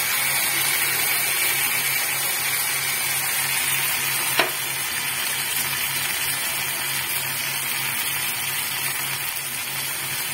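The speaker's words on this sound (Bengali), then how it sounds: "এরপর আমি পোস্ত বাটাটা ঢেলে দেব" Poppy seed paste poured over onions frying in a pan, a loud continuous sizzle with a sharp clatter partway through, steady for several seconds with no voices.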